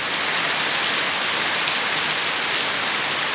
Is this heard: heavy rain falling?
yes